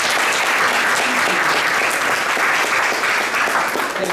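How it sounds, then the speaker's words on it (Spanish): A large crowd applauding steadily throughout, a dense, even wash of clapping at fairly loud level. "Un aplauso para el gobernador."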